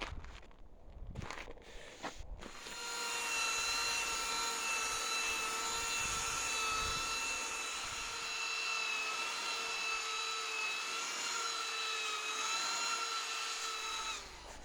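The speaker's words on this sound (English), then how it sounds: "now I'm gonna take a sander and sand this down a little bit" An electric power sander works a stained wood board, giving a steady high whine with a rough abrasive hiss that runs for several seconds after a few brief knocks at the start, close and continuous.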